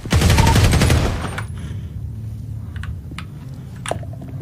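Video game gunfire rattles in a dense automatic burst up front, loud and close, then gives way to quieter scattered in-game clicks and thuds.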